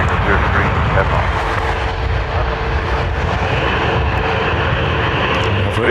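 An Airbus A320neo jet roars steadily at Dublin Airport, a loud continuous engine rumble and whine that holds across the whole stretch.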